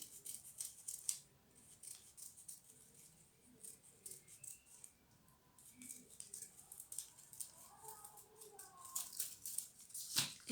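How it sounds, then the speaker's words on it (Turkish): Scissors cut circle shapes out of paper for a children's craft, making soft, faint snips and rustles close by against a quiet room. "Evet şimdi daire şekillerimizi kesiyorum."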